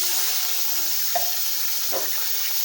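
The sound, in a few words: water poured into hot ghee, sizzling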